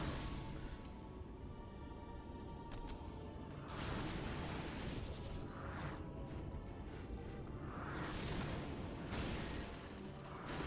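Explosions from the real-time strategy game Warhammer 40K: Dawn of War - Dark Crusade boom in a dense, continuous battle mix, with louder bursts swelling around the middle and near the end.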